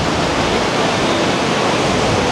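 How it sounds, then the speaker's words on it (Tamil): Water rushes at a waterfall at Mankulam, a loud, dense, unbroken roar that stays close and constant from start to end, with no talk. "அந்த தண்ணி வர்ற ஃப்ளோ எப்படி வருது பாருங்கள்"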